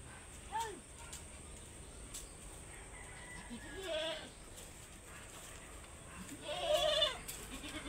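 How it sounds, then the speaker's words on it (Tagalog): Goats bleat a few times in the open, quiet and somewhat distant, with short wavering cries separated by pauses over low background noise. "Ang kambing natin."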